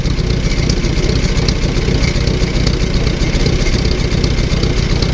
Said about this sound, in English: No weird noises coming out of the engine.